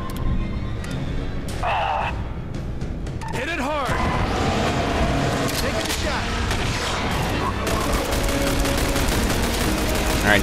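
M14 rifle gunfire in The Bureau: XCOM Declassified, sharp shots over a dense, loud battle din, with game voices and effects heard throughout.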